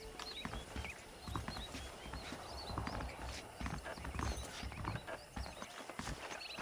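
Horses clip-clop steadily in the Western video game Red Dead Redemption, hooves beating a continuous rhythm amid outdoor ambience, with an occasional whinny and faint bird-like chirps in the background.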